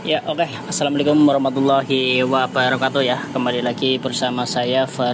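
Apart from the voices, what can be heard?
No everyday noises stand out.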